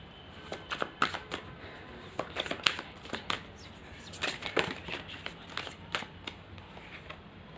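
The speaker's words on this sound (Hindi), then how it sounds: "मैं कार्ड्स क्लियर करती हूँ यहाँ पे" Tarot cards are gathered up and shuffled, producing a scatter of light, crisp flicks and papery slaps in irregular clusters, fairly quiet and close.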